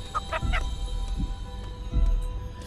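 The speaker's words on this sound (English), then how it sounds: "this motherfucking chicken" Chicken clucking in the video game Chicken Feet, a few short squawky clucks in quick succession close up, then a couple more scattered bursts over a low background hum.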